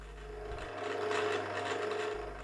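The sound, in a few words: pillar drill with Forstner bit drilling wooden vase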